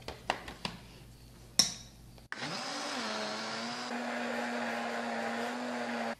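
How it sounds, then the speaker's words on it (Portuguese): A few sharp clicks and knocks, then a blender starts up and whirs steadily, mixing powdered milk mousse ingredients, its motor pitch settling after a brief rise, close and fairly loud with no talk. "Vou colocar esses ingredientes para liquidificar"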